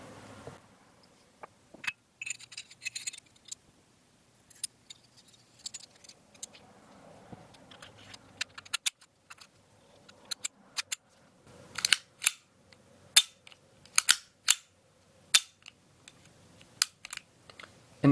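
Reassembly of a Beretta Series 70 Model 72 pistol, a string of sharp metallic clicks and small snaps at close range, sparse at first and then denser, with quiet pauses between.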